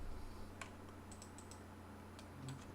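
Several light, scattered key clicks from a computer keyboard as commands are typed into AutoCAD, quiet and fairly close over a steady low hum, with a sharper tap or two like the Enter key.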